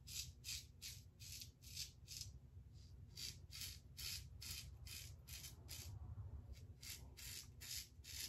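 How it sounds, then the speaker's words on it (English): Close, quiet scraping strokes of a Goodfellas' Smile Styletto Snake Green safety razor shaving, repeated rhythmic rasping passes with brief pauses, heard alone without talking. "I'm gonna shut up for a little bit and just continue to shave and let you hear the feedback"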